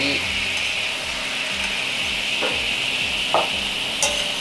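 Yellowtail teriyaki simmers in its sauce in a pan, a loud steady bubbling sizzle with a low repeating mechanical hum beneath and a couple of sharp utensil taps near the end.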